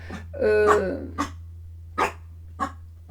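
A small dog barks nearby: one longer burst of yaps followed by three short, separate barks, loud and clear against a steady low hum.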